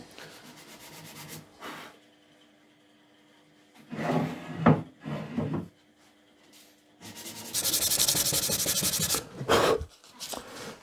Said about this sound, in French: un bon ponçage pour pouvoir mettre une surface acceptable pour la préparer pour la finition